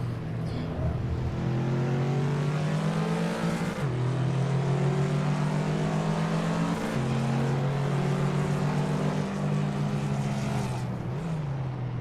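A 2015 Ford Mustang races around Barbagallo in Assetto Corsa, its engine revving up through the gears with sharp drops at shifts, loud and continuous, with faint commentary underneath.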